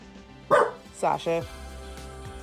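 A dog barks three times in quick succession, one sharp bark and then a close pair, fairly loud and near, with quiet room tone between.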